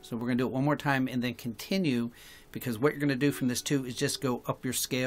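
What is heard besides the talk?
None of the usual background noises is heard.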